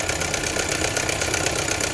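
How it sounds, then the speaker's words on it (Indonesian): A warmed-up 1987 BMW E30 with the M10B18 four-cylinder engine idles steadily, a close, even rumble with a faint rhythmic pulse and no change in pitch. "Mesin udah hidup sekitar 5 menit."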